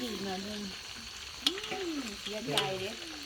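Food deep-frying until crispy in a home kitchen, a steady sizzling hiss of hot oil running throughout, with occasional clatters and voices chatting over it.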